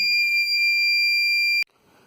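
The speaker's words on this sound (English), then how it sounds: "So any obstacle will switch on the alarm." A triggered laser security system alarm sounds as a loud, piercing steady electronic tone that holds for about a second and a half, then cuts off sharply, leaving near silence.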